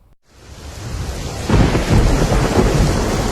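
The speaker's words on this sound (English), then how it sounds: "Just his luck, it started to rain." Thunder rumbles and rain pours in a storm sound effect, starting quietly and swelling into a loud, dense downpour with deep rolling thunder after about a second and a half.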